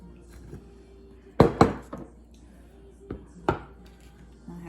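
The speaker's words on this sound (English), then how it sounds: "Some broccoli, some fresh broccoli. I'm just gonna cut some up to put inside." A knife chops fresh broccoli on a cutting board, giving a handful of sharp, close knocks in two uneven clusters with quiet pauses between them.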